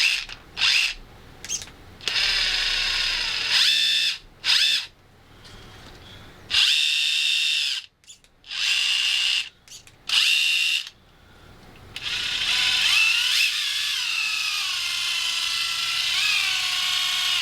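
A Traxxas TRX-4 RC crawler whines from its spur and pinion gears, a high buzzing drivetrain sound in repeated short bursts and stops, then a longer steady run with shifting pitch.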